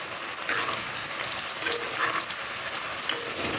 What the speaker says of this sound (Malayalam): അതിലേക്ക് നമുക്ക് ഈ സവാള അരിഞ്ഞത് ഇട്ട് അടുത്തൊന്ന് ഫ്രൈ ചെയ്തെടുക്കാം.